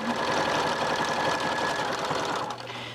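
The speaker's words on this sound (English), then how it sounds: "you sew until you get to 1/4 inch from the end" A sewing machine stitches quilt binding in a fast, even mechanical run, its motor whirring loudly and continuously for the whole stretch before easing slightly at the very end.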